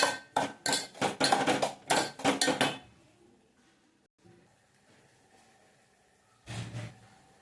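Vermicelli sheera is stirred in a pot with a metal spoon, giving a quick series of loud scraping knocks and clatters, then a quiet stretch before one more burst of scraping.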